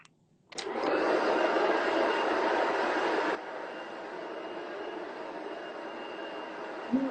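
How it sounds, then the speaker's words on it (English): Steady rumbling train ride noise carried over a livestream call, a broad droning roar that swells loudly, then drops to a quieter continuous hum for the rest, with no speech. "Oh, she's on the train."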